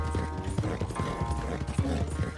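Horse hooves clip-clop steadily in the video game Red Dead Redemption II, with a brief neigh mixed in. The hoofbeats are fairly close and continuous over ambient game sound.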